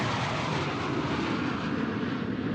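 A recorded airplane sample, labelled CT142, plays back steadily as a continuous engine roar throughout, loud and alone with no voices.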